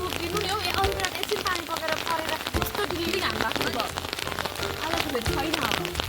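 Steady rain pours down outdoors at Malinska on the Croatian island coast, a dense continuous hiss of drops hitting surfaces throughout, with voices faintly present beneath it.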